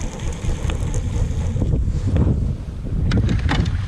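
Strong gusty wind blows over a lake during kayak bass fishing, buffeting the microphone in loud, continuous rushing gusts with some splashing and rattling close by and no talking.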